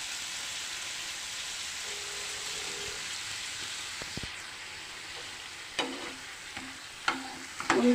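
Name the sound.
stirring onions frying with mustard and chili powder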